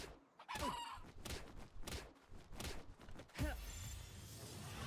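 Chickens in the video game Palworld cluck and squawk in a string of short, sharp calls, with a louder crow-like burst near the end, fairly quiet overall.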